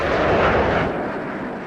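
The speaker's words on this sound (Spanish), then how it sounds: "Estas son las primeras batallas de la historia entre aviones a reacción." Jet fighter aircraft in a Korean War air battle: a loud, broad roar that swells briefly and then slowly fades, heard alone without any voices.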